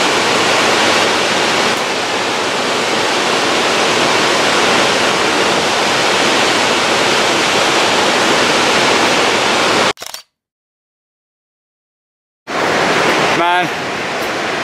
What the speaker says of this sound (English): because the waterfall is just there.